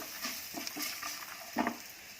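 Spices for South Indian lemon rice sizzle softly in a pan while being stirred, with a steady frying hiss and a few light scraping strokes, quiet and close with no speech.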